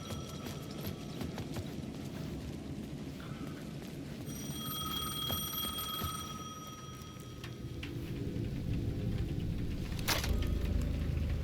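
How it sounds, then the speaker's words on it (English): Payphone ringing at the edge of a plaza in the video game Alan Wake 2, a faint, steady electronic ring heard amid muffled ambient noise and rustling, with no talking. "The payphone at the edge of the plaza was ringing again."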